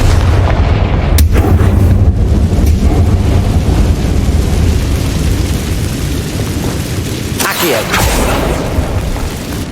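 A Confringo blast spell explodes in Hogwarts Legacy, with a dense, loud rumbling boom over game ambience and a sharper burst near the end.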